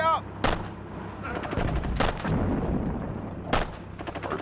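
Artillery fire in the Sudden Strike 2 war strategy game sounds as three sharp, loud booms about a second and a half apart, over rumbling battle noise and a brief game voice.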